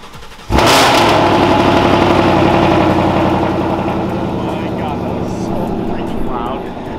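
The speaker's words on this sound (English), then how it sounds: "cold start the car up here so you can get a feeling of how loud it is" Ford Mustang tuned to around 800 horsepower with a new fuel pump, cold-started outdoors: a sharp crank and loud bark, then a heavy, rumbling idle that stays loud and steady throughout.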